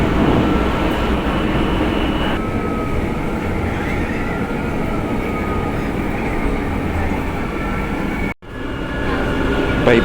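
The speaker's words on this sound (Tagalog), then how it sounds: "medyo mabilis-bilis ang takbo ng train running estimated to 20 to 35 kilometers per hour" An MRT metro train running on rails at about 20 to 35 km/h, a loud steady rumble and rolling roar from inside the car with a brief dropout near the end.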